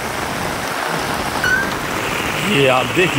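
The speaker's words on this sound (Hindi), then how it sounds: "सड़क पर कितने ज़ोरदार तरीके से बारिश है।" Heavy rain pours steadily onto a road in Jhansi, a dense, loud hiss of water that fills the whole clip, with someone speaking over it in Hindi.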